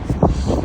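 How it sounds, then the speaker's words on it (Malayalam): Wind buffets the microphone outdoors in a snowy setting, a continuous low rumbling roar with a brief stronger gust, heard alone. "വാവ്, നമുക്ക് കാറ്റടിക്കുന്നുണ്ട്"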